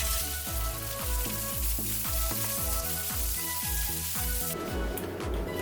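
Onions frying in a pan, a dense steady sizzle with regular scraping stirs from a utensil that repeat roughly every half second, close and loud, with no talk.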